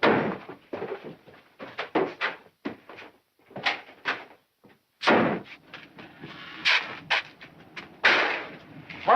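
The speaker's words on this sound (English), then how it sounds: "Someone's knocking. Kitchen door." Knocking on a kitchen door in a 1940s-style mystery film setting comes as loud, irregular bursts of heavy thumps and raps, some clustered, others spaced by short pauses.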